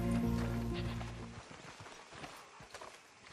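Horses clop at the stables in the video game Red Dead Redemption II. A steady tone fades as a few scattered hoofbeats thud nearby.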